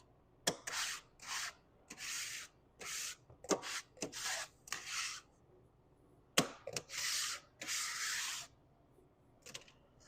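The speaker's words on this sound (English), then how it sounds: "Scrape it off" Material scraped off a surface in repeated short, rough strokes, each a gritty rasping burst with sharp knocks between, close and distinct against quiet.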